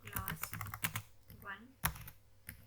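Fingers tapping a computer keyboard while typing HTML code, quick uneven clicks in short bursts at close range, with some soft speech in between.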